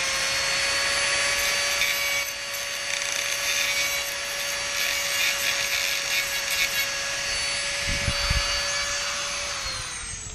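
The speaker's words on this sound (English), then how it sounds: "just give it a little quick hit with the Dremel" Dremel rotary tool grinding a small metal part for a Kyosho Mini-Z RC car, a steady high whine with harmonic tones running continuously and close, easing off at the very end; no talking.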